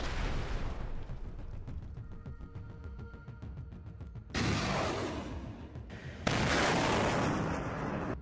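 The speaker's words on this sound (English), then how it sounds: "drones carrying TM-62s flew over the road and fired anti-tank mines at the shelter where the 2 soldiers were located" TM-62 anti-tank mines dropped by drones blow up on a soldiers' shelter by a road, a run of heavy blasts and crackling rumble, with two louder, broader explosions near the end.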